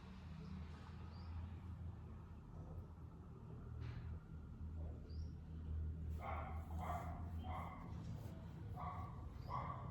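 A pet dog, a female, barks indoors in a series of quick bursts clustered in the second half, over a steady low rumble, with fainter yips earlier.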